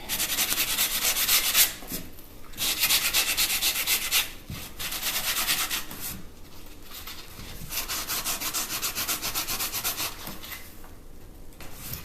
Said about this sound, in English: So we're just sanding this off right now.